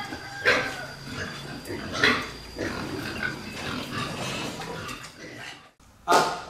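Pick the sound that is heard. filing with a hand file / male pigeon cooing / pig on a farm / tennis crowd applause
pig on a farm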